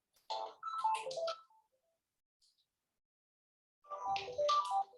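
A mobile phone plays a melodic ringtone for an incoming call in two short bursts separated by a couple of seconds of near silence, clear and fairly close.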